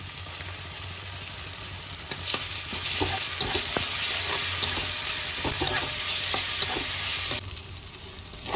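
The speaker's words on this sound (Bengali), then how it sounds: "এবার আমি আদা রসুন কাঁচা লঙ্কা পেস্টটা দিয়ে দেবো।" Ginger, garlic and green chilli paste frying in a pan with capsicum and onion, a steady close sizzle running throughout with occasional scrapes and knocks of a stirring spoon.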